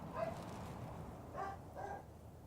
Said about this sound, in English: Oh goodness, the puppies are loud today.